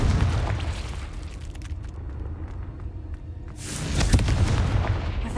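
A Confringo spell in the video game Hogwarts Legacy sets off loud, booming explosions, a heavy rumbling blast at the start that fades and then a second bright burst near the end.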